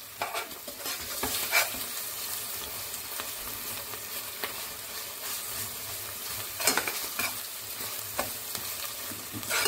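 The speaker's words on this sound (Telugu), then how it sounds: "కొంచెం పచ్చివాసన పోయేదంతా వేయించుకొని అప్పుడు గుమ్మడికాయ ముక్కలు వేసుకోవాలి" Asafoetida frying in a pan before ash gourd pieces go in, a steady close sizzle with occasional sharper crackles and light stirring scrapes, no voices.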